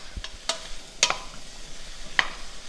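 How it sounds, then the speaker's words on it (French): Red kuri squash and onions sweat in a pan, giving soft, faint sizzling while a utensil stirs with a few brief scraping clicks. "on fait suer maintenant le potimarron avec les oignons"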